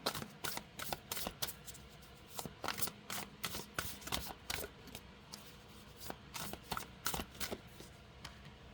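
Tarot cards shuffled by hand, a steady run of crisp riffling snaps and slides repeating close up and clear for several seconds, with no talking over them.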